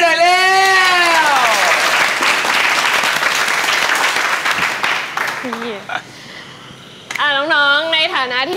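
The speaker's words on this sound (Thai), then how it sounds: "ปรบมือต้อนรับพี่แสนดีหน่อยเร็ว" Audience applause welcoming someone at a youth camp gathering: dense, steady clapping fills the first five seconds, then fades briefly before a second burst, with voices talking over it throughout.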